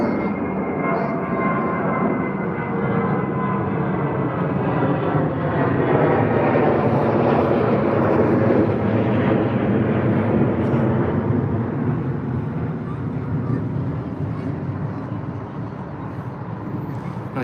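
British Airways airliner at London Heathrow, a loud sustained jet engine roar with a shifting whine as it passes, continuous and near for the whole stretch.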